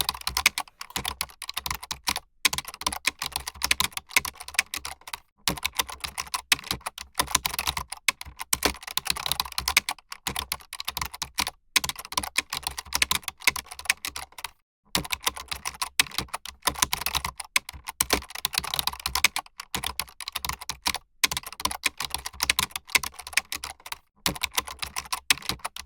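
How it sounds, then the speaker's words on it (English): Continuous typing of code on a computer keyboard, brisk irregular key clicks with a few brief pauses, close and clear with no talking. "Type the code."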